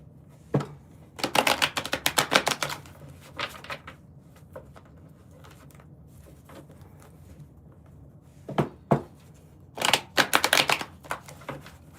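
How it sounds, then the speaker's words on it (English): A deck of tarot cards is shuffled by hand in close, crisp bursts of riffling and flapping, two main rounds separated by quiet pauses with a few single card taps between them. "Just gotta mix these cards up."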